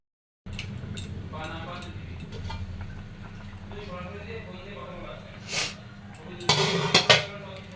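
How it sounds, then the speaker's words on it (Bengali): A pot lid clanks down on a simmering lentil curry in a home kitchen, giving a few metallic knocks and a brief rattle late on, over someone talking throughout. "এখন এটা ঢেকে দিচ্ছি যাতে ভালো মতো ফুটে ওঠে"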